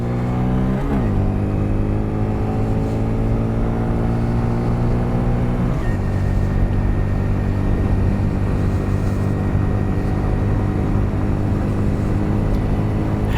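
A 2023 Honda Grom motorcycle revs hard through its gears at top speed, the engine note climbing, dropping at each upshift, then climbing again, loud and close with no talk.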